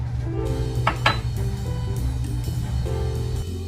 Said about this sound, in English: keep whisking the chocolate inside of the cream mixture until it's completely smooth